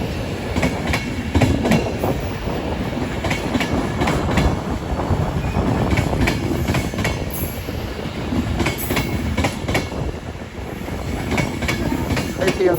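A Manchester to Glasgow Central train running past Crewe on the West Coast Main Line, with continuous rumbling wheel noise, rhythmic clickety-clack over rail joints and occasional high squeals, steady and close throughout.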